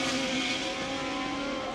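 ALMS race cars at Laguna Seca roar past in a steady, loud engine blare with a sustained high whine and no clear gaps or speech.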